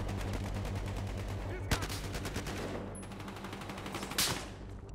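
An AKM rifle fires in Battlefield Hardline multiplayer: rapid, rattling bursts of automatic gunfire with a couple of sharper, louder shots, heard in a busy in-game battle.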